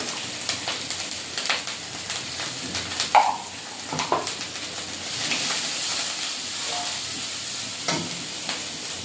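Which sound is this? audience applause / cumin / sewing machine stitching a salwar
cumin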